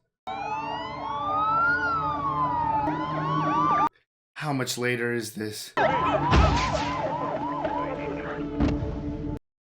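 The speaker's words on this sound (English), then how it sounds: "I hear sirens." Wailing sirens rise and fall loudly, several overlapping, cut by a brief break with a spoken line, then continuing with noisy clatter underneath.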